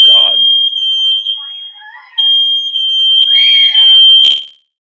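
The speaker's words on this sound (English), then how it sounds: "Who knows why the fire alarm just went on there" A fire alarm sounds during an LSU spring football preview show, a steady, loud, high electronic tone lasting several seconds under people talking, then cutting off abruptly.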